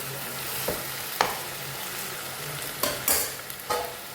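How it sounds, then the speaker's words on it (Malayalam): Chicken pieces for chicken thoran are stirred with a spoon in a non-stick pan, several distinct scraping strokes over a quiet, continuous sizzle, close and unaccompanied by talking. "സ്പൂൺ ഉപയോഗിച്ച് നന്നായിട്ടൊന്ന് ഇളക്കും"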